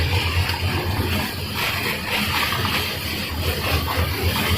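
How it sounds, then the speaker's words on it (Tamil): Wind and heavy rain batter a moving truck, a steady broadband rushing and pattering with a low road rumble underneath, no talk. "காற்று மழை"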